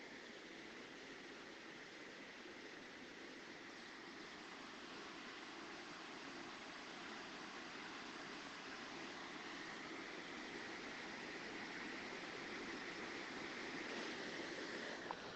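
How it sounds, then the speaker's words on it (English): Water flows outdoors with a steady, even rush that holds a constant broadband level, like a stream or falls nearby. The sound continues unbroken with no voices over it. "Just show the viewers the water noise."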